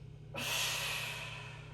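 One long exhaled breath during a Pilates double leg stretch, starting abruptly and hissing steadily for over a second, close and fairly soft, alone over a low room hum.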